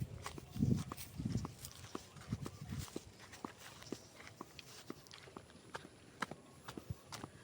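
A water buffalo (carabao) walks through a field, its steps landing as soft irregular thuds with a faint scuffing rhythm, fairly quiet and near, with no talk over it.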